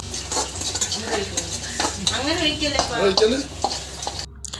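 Food sizzles and fries in a pan while a utensil stirs and scrapes against it during crab curry cooking, with clinking and a voice murmuring briefly in the background.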